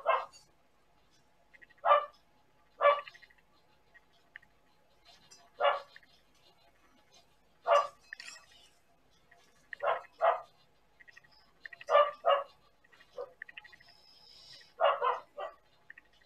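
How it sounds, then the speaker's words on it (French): Guard dogs bark in scattered single and double woofs at a moderate distance, sometimes closer together, over a quiet background with little else heard. "Désolée pour le chien si ça vous embête."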